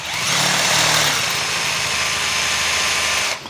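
A power drill runs steadily as it bores through an E-flite Carbon-Z T-28 propeller, a loud, close, continuous high whine that holds for about three seconds before cutting off.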